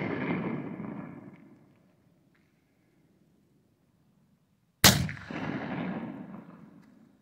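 Howdah 20 gauge black powder gun loaded with buck and ball, 55 grains of powder and .30 buckshot, fired once with a sharp, loud blast followed by a long booming decay; an earlier shot's echo fades out beforehand.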